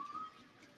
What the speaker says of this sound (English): And finally we have a whistle.